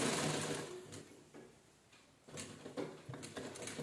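A sewing machine stitches strips of cloth scraps into a doormat, running in steady rapid bursts with short pauses between them, loud and close with no talking.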